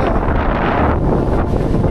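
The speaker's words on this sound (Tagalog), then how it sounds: "Ito yung pinakamalakas na hangin talaga na naranasan ko sa pagka-camping" Strong mountain wind roars and buffets the microphone without a break at a campsite, a loud, rough rush that swells slightly, with no voices.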